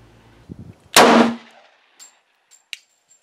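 A single sharp gunshot from a .40 caliber pistol firing 165 grain HST rounds cracks out loud and close, followed by a short ringing decay and a couple of faint metallic clinks.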